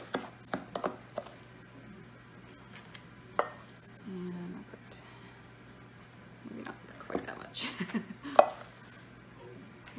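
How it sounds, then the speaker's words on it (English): Graham cracker crumbs being mixed with melted margarine for small pumpkin cheesecakes, heard as scattered scraping, tapping and clinks of a utensil against a bowl, with a brief low hum partway through. "I'm just mixing my graham crumbs with my melted margarine."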